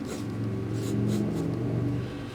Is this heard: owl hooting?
no